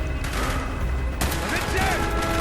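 Gunfire in the Call of Duty Black Ops video game, a loud sustained burst of shots with a second volley midway, mixed with in-game voices and battle noise.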